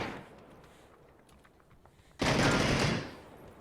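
Video game gunfire in a Korean battle-royale match cuts in as a loud, dense burst of shots lasting under a second after a quieter stretch of faint clicks and movement.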